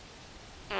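A short fart sound bursts in loud and close at the very end after a near-silent stretch, brief and buzzy.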